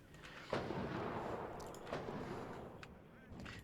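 Mortar rounds firing and landing in the WARNO real-time strategy game, heard as a couple of dull distant thuds followed by low rumbling booms over a steady battlefield din.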